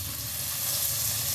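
Two cut tomatoes fry in a pan for a chicken biryani, giving a steady, close, hissing sizzle with a faint stirring texture and no voices.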